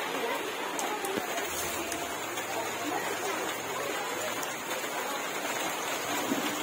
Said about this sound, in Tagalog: Abutan ng ulan yung paglilitson natin.